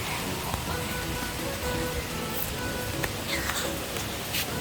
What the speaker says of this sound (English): It is raining heavily.